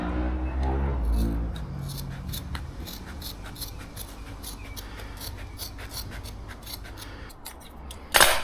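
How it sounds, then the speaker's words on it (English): Scissors snip repeatedly through thick carpet in a steady series of crisp cuts, preceded by a low rumble and ending with a louder clunk. "I'll just cut these curves with the scissors."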